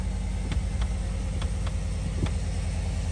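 A Chevrolet Silverado Z71 pickup with a brake system fault runs at idle, a steady low rumble heard close, with a few faint clicks ticking over it.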